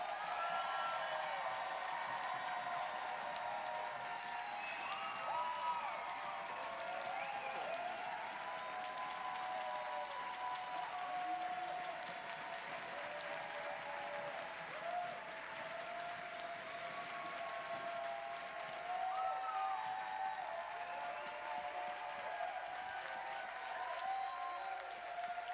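A large room audience at a dance awards event gives Hillary Alexander a long, steady round of applause, dense and sustained throughout with a faint crowd murmur underneath.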